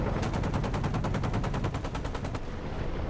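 Apache helicopter cannon in DCS World firing one long, rapid burst of loud, evenly spaced shots for about two seconds, then stopping, with no voices.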